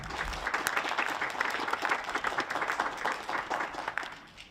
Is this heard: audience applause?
yes